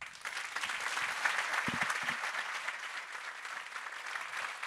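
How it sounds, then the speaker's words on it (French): Evening ceremony crowd giving sustained applause, a steady, moderately distant patter of many hands clapping that holds evenly for several seconds. "Alors merci de les applaudir très fort"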